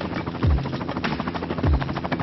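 Two helicopters land one after another at a royal country residence near Aqaba, Jordan. Their rotors throb as a steady, fairly loud pulsing thrum with two heavier low swells.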